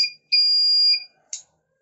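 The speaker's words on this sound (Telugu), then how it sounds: "we are getting that buzzer sound మనకి ఇక్కడ బజర్ సౌండ్ అనిపిస్తుంది" An Arduino flame-sensor fire alarm buzzer sounds a shrill electronic tone, one long steady beep of about two-thirds of a second followed by a short chirp, close and clear in a quiet room.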